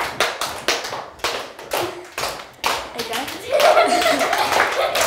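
A group clapping hands during a Simon Says game at a workshop, loud uneven bursts of claps and thuds at first, then more scattered clapping as voices and chatter rise in the background.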